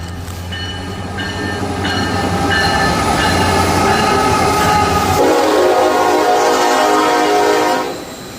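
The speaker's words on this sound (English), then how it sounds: "The freight train coming." A loud intermodal freight train rumbles close by in Danville with steady rolling clatter and wheel noise, its horn sounding tonally over the roar before the sound eases off.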